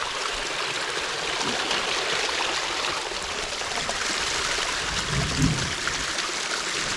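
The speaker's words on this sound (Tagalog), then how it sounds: "may talon-talon po dito eh." Water flows over a small waterfall beside a vegetable garden, making a steady, close, rushing splash with a faint gurgle, with no voices.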